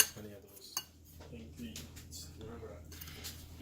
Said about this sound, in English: Let's mix this up a little bit, the dry ingredients